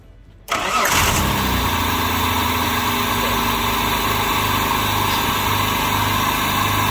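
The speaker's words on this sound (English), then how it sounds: "let me start the car." Hyundai Santa Fe engine cranking and catching after a brief silence, then settling into a steady, loud, close idle hum that continues to the end.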